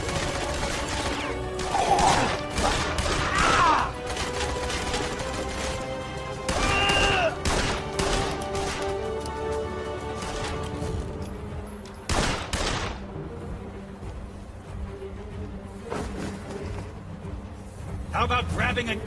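A shootout in the video game Blues and Bullets, with dense crashing gunfire and impacts through most of the stretch, mixed with game effects and clipped voices.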